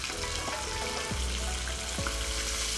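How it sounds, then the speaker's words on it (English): Salmon sizzling in a hot pan as salt is sprinkled over it, a loud, constant close-up crackle and hiss with a few soft scrapes, no voices. "adding in the salmon here, sprinkle some salt"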